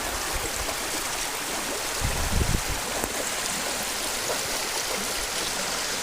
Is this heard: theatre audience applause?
no